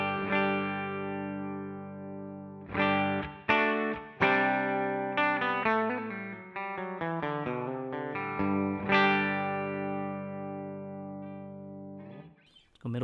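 Clean electric guitar notes and chords through a Marshall Bluesbreaker pedal ring out one after another, sustaining with a slight chorus shimmer, ending in a brief scratchy strum.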